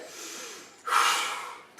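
A strong, forceful Iceman-style breath is taken during a vinyasa yoga flow, with arm movements. Soft breathing comes first, then a loud, rushing inhale or exhale close to the listener, with no talk.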